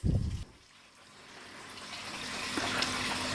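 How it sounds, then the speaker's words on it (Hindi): Water drains from the wash tub of a semi-automatic washing machine with a drain fault, a steady faint rushing flow that slowly grows louder after a brief thud at the start. "इस वॉश टब में इकट्ठा होने वाले पानी इसके ड्रेन लाइन के थ्रू बहते ही रहते हैं।"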